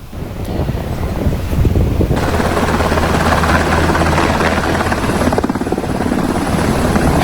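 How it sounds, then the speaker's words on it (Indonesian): A loud Israeli military helicopter roars close by, its rotor wash blasting like heavy wind, the pitch shifting as it settles down to land on a hospital helipad. "Helikopter militer Israel mendarat di landasan helikopter rumah sakit untuk mengevakuasi tentaranya yang terluka"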